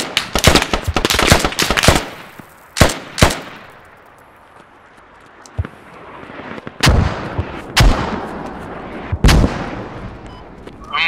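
Mortar rounds slam down in a tactical multiplayer war game: a rapid cluster of sharp, loud blasts, then scattered single booms with rumbling decay between them.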